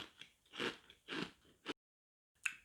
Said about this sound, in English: And now to try the cereal.